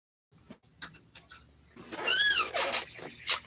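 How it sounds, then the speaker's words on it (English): A pet cat gives a soft, short meow midway through a quiet indoor scene, with faint clicks and rustles around it. "I love this cat."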